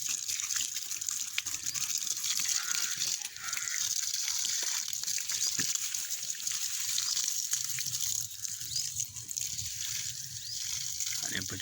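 Water runs steadily into a planted field of young saplings, a continuous broad rushing and gushing that stays close and even throughout, with faint sounds around it.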